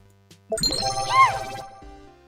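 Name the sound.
streaming test alert chime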